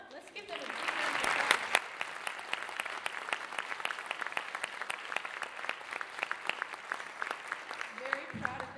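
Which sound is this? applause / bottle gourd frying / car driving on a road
applause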